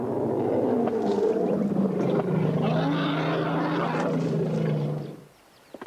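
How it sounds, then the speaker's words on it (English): A family of elephants meeting gives a long, loud, rumbling roar and trumpeting chorus that lasts several seconds, then breaks off into near silence. "Elephants live in families. When they meet, they make a lot of noise."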